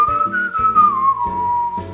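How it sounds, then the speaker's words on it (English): A person whistles a single sustained, clear tone that slowly slides lower, with soft low thumps beneath it. "And yes, I can whistle."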